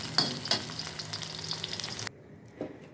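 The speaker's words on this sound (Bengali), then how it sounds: "আলুটা লাল করে ভেজে নিলাম।" Potatoes frying in a pan and being stirred while cooking for a hilsa pulao: close sizzling with a few scraping, clattering stirs, which drops abruptly to near quiet near the end.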